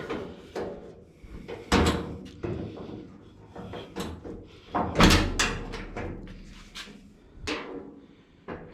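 Door of an early Ford Bronco under restoration being shut several times, a series of sharp metallic thunks and slams with rattles between them, close by.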